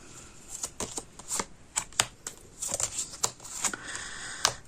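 A tarot card deck being cut and shuffled close by: a quick, irregular run of crisp card slaps and snaps, alone with no talk.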